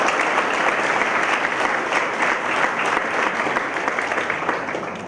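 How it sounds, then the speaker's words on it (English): Sustained applause from the audience at a first-year medical college welcome ceremony, even and dense clapping at moderate distance lasting about five seconds before easing off. "I think we require a round of applause."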